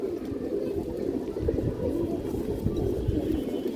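Many pigeons of fancy breeds coo together in a loft or sale pen, forming a dense continuous murmur of overlapping low coos with faint shuffling, without a clear pause.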